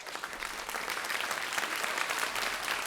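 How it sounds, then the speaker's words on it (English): An audience applauds after a medical lecture on multiple sclerosis, a dense, even wash of many hands clapping throughout, steady and moderately loud with no voices. "Everybody give him a round of applause."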